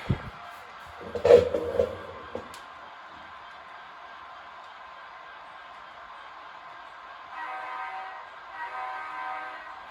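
A diesel locomotive in the railroad game Rhythm RR throttles up, a low engine drone rising into a steady harmonic hum, preceded by a short horn-like burst and a few clunks, moderately loud and heard alone.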